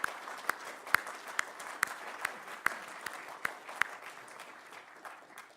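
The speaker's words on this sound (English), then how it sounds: "Let's give them a round of applause." An audience applauds its speakers at a public forum on form-based zoning in Charlotte: a soft, fairly distant patter of claps with a few sharper individual claps standing out, fading gradually.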